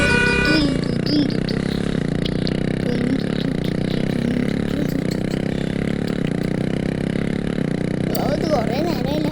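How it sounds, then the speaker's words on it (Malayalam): Motorcycle engine droning steadily while riding in the game Indian Theft Auto, with game effects layered on top and a brief voice-like sound near the end. "ബൈക്ക് എടുത്ത് പോവാം."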